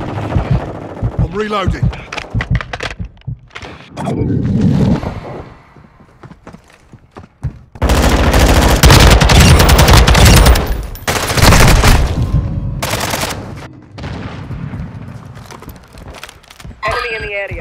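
Bursts of automatic gunfire and single shots in a Call of Duty: Modern Warfare 2 team deathmatch, loud and close, with heavy sustained fire in the middle stretch; a player's voice talks over parts of it.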